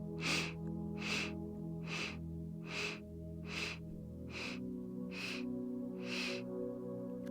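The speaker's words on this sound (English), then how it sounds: "So inhaling in 8 sniffs" Eight short, evenly spaced sniffs drawn in through the nose, each a quick breathy hiss close to the microphone, over a steady background hum.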